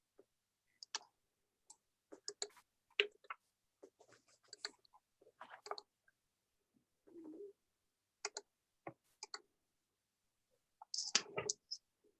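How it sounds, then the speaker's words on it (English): Sparse, irregular clicking and tapping, like typing on a keyboard picked up by an open microphone during an online planning board meeting, coming in short bursts with gaps, fairly faint and close. "Bob, if you could mute your microphone while you type"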